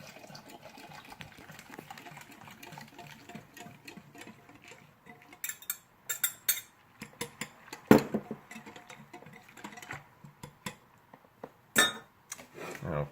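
Milk being poured and stirred into chocolate pudding in a kitchen: soft liquid swishing with irregular light clinks of a utensil against a bowl, growing louder and more frequent later, with a few sharper knocks.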